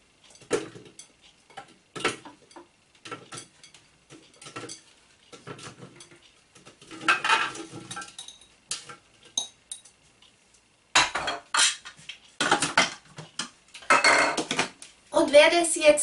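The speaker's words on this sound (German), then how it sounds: "800 Gramm Zwiebeln geviertelt. Die geben wir jetzt in den Mixtopf hinein" Quartered onions, 800 grams in all, dropped piece by piece into an unwashed Thermomix mixing bowl, a series of hard clunks and knocks, irregular and close, with quiet gaps between.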